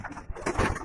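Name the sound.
pigeons cooing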